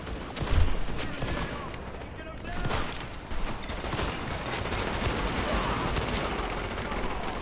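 Gunfire in The Division's Dark Zone, with rapid, fairly quiet shots cracking in irregular bursts against a busy game background.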